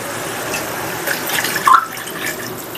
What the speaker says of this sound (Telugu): ఒక హాఫ్ గ్లాస్ వాటర్ వేసిన